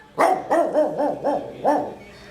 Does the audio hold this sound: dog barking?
yes